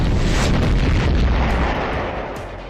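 A loud, deep explosion roars out, a broad rumbling blast that holds strong and then slowly fades away.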